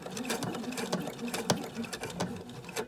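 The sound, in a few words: sewing machine back stitching over ribbon on a placemat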